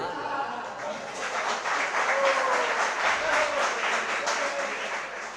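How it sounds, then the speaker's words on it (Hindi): An audience claps steadily during a Hindi spiritual discourse by a Jain monk, and a voice talks over the applause. "सर्दी के समय पर तालियों की आवाज़ कम आती।"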